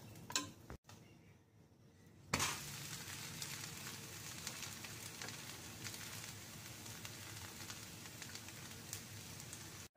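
Dosa batter fries in oil on a hot pan, giving a soft, continuous crackling sizzle that starts after a brief quiet gap and then holds steady and faint.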